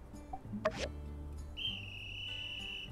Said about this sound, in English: Actually, I got a whistle.